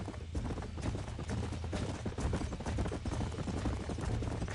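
Hoofbeats from horses in Red Dead pound along at a brisk, steady gallop, loud and close against a thick background rumble, with no voices over them.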